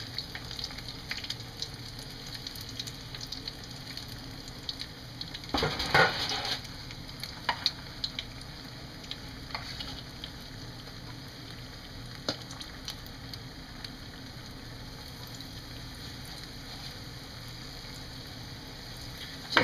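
Crispy onion rings frying in oil, a steady soft bubbling sizzle throughout, with one louder burst of spattering midway as a ring is flipped and a few light taps of a utensil.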